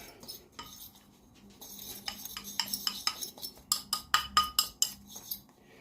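A spoon mixing coriander and chili flake seasoning in a bowl for rabbit biltong, a series of quick, bright clinks against the bowl that grow louder and more rhythmic toward the end.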